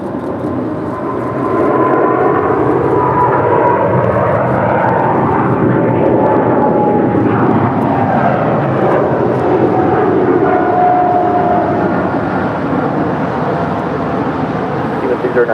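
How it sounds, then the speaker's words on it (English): An EVA Air Cargo Boeing 777 freighter, two years old, departing, with a loud, broad jet engine roar that swells and holds steadily over the whole stretch, heard alone without voices. "This is EVA Air Cargo Flight 609 departing to Taipei. It's a 2-year-old Boeing 777 freighter."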